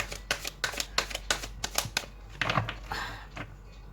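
Tarot cards are shuffled in a quiet room, with a series of crisp close riffling flicks in quick succession followed by a softer sliding shuffle, and no talk over them.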